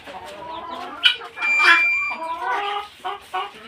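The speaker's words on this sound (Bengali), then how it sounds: "এই দেখেন আমার ফার্মের মুরগিগুলো আলহামদুলিল্লাহ ভালো আছে" Chickens cluck and squawk on a poultry farm, several birds calling close by in overlapping bursts, with one louder rising call near the middle and no talk.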